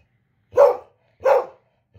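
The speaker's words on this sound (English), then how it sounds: "That dog right there, I say baby, and she starts barking." A pet dog barks twice at close range, two loud, evenly spaced barks with silence between them and nothing else audible.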